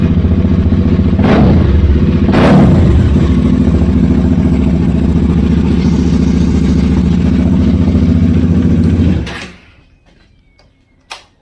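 A Bajaj Dominar 400 motorcycle fitted with an SC Project exhaust revs loud and close, a raspy steady roar with two sharp throttle blips early on, then cuts off abruptly into near silence.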